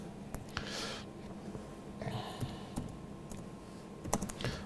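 Fingers tap out quick, uneven bursts of keystrokes on a computer keyboard, soft and close, with short pauses between clusters of clicks.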